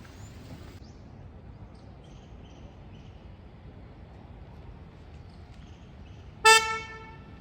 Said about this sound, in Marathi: मलाच हॉर्न मारून राहिली